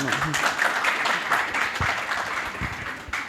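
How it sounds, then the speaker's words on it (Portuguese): Audience applause after a talk at an economic seminar, a dense sustained patter of clapping throughout with some murmuring voices beneath. "Salva de palmas aí"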